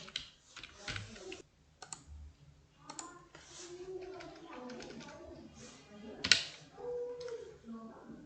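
Fingers tapping on a computer keyboard while a document heading is typed, giving bursts of quiet close clicks with short pauses, mixed with faint background sounds.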